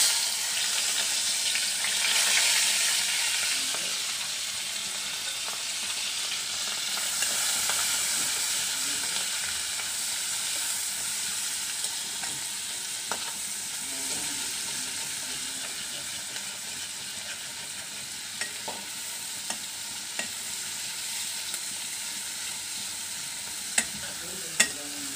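Chopped onions and green chillies frying in a pan for a prawn dish, a steady hissing sizzle throughout, louder at first and then settling, with occasional faint clicks and stirring sounds.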